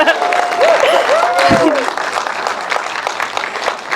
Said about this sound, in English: let's start with giving yourselves a round of applause for coming here tonight